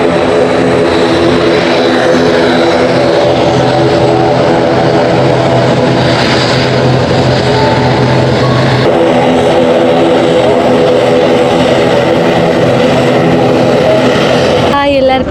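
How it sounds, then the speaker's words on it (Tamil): An airplane lands at Jaffna International Airport, its propeller and engine drone loud and steady throughout as it rolls in. Voices of onlookers can be heard faintly beneath the roar. "ஃப்ளைட் வந்து இறங்கிட்டுது பாருங்கள்"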